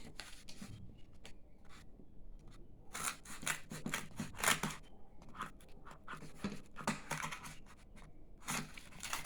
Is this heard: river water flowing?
no